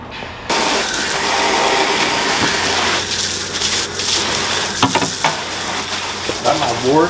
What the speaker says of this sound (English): My wort is up to a boil.